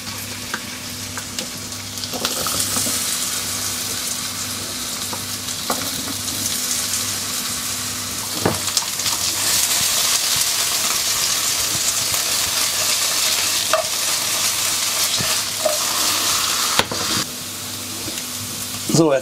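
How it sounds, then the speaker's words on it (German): Potatoes fry in a pan over reduced heat, giving a loud, continuous sizzle with occasional scraping stirs and a faint low hum underneath. "Und jetzt kommen hier die Kartoffeln zuerst rein. Die sollen auch etwas Farbe bekommen."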